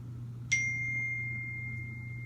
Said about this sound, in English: Phone had to chime on that one.